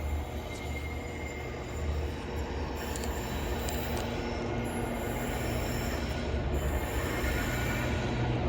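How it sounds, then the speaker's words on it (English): A freight train passes a railway station on the Stoke-on-Trent to Birmingham line, making a steady, heavy rumble of rolling wagons with faint, high wheel squeals throughout. "No, it sounds like a freight service."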